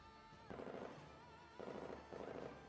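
Bursts of gunfire from the Girls' Frontline video game, with 416 and G11 laying down suppressive fire: three short rapid volleys of sharp shots over a steady game background hum.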